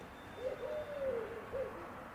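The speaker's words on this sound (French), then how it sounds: "Ça n'empêche pas les tourterelles de chanter." Soft, low cooing of turtle doves drifts in, a few gentle murmuring notes over quiet background hum.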